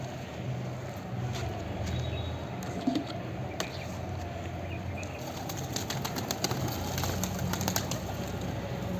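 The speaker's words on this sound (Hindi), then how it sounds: "तो जैसे ही मैंने दाना डाला और बाहर से एक एक करके कबूतर आना स्टार्ट कर दिए।" Pigeons gather one by one at scattered grain, with wing flaps, soft cooing and scattered clicks and pecks over a steady background hum, fairly close and moderately quiet.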